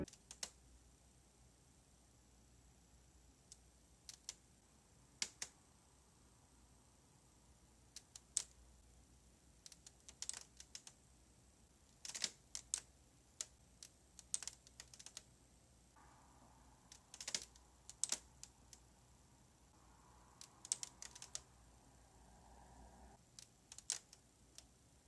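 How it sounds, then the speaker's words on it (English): A Viotek GN34C ultrawide monitor gives off sharp plastic pops and cracks. They come as scattered faint clicks at irregular intervals over quiet background hiss, with occasional clusters. "this monitor would start to make really annoying popping and cracking sounds, as if it was starting to fall apart"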